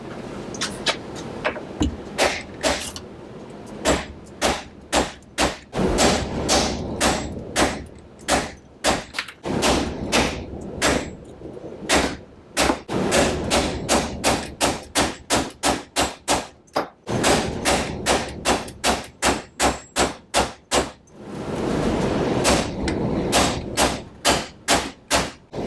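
A rifle barrel is banged onto its threads while held in a vise block, giving a long series of sharp metallic hammer blows. They come in uneven bursts of rapid strikes with short pauses between them, loud and close, with no talking.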